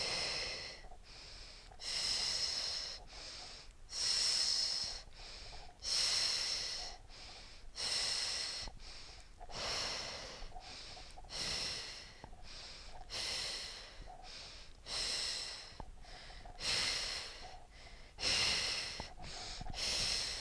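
Deep, forceful breathing during a Pilates workout with toning balls, a regular cycle of loud inhales and exhales roughly every two seconds, close to the microphone, with breathy whistling peaks on each breath and no speech.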